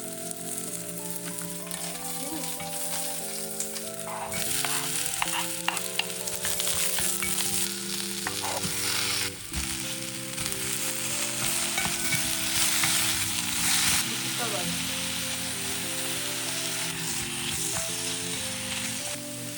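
Garlic fries in a pan with a steady bright sizzle and occasional stirring scrapes, running continuously at moderate level while music plays underneath.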